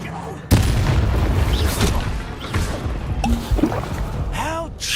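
A Confringo blasting curse explodes in Hogwarts Legacy, a sharp booming burst hitting at once and then rumbling on beneath a dense mix of battle effects, with brief voices in the clip.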